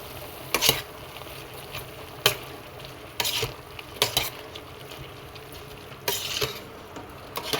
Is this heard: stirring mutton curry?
yes